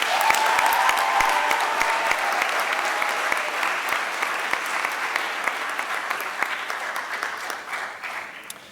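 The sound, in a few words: audience applause at awards ceremony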